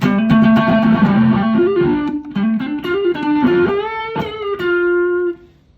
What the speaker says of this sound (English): So if I want to turn on distortion